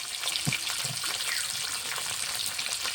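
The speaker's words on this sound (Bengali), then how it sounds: "এটাকে মাছটা দিয়ে দেবো।" Rohu fish sizzling in hot oil for a spiced curry, a steady bright hiss throughout with a couple of low clunks early on as pieces settle in the pan; no talking.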